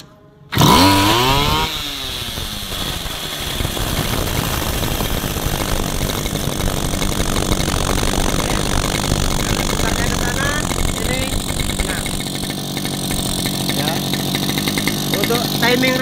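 A Stihl grass cutter engine starts up abruptly and then runs loud and steady at a high, buzzing pitch for the rest of the clip, close to the microphone.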